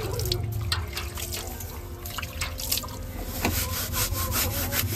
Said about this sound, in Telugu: ఇట్లా పోసుకొని 2 చేపలు రుద్దుకోవాలి